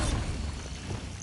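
Bombarda explosive spell cast in Hogwarts Legacy, a low rumbling burst with a broad noisy wash that swells at the start and stays steady and loud for a moment.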